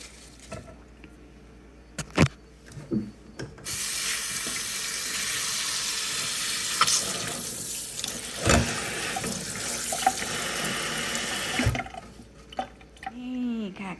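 Kitchen tap runs in a steady loud stream while food is washed under it in a home kitchen sink, with splashes and knocks before and after the flow, which cuts off abruptly near the end.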